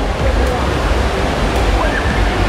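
Waves rolling through a thermal park wave pool in Gramado, a steady loud wash of water and surf noise filling the whole stretch without a break.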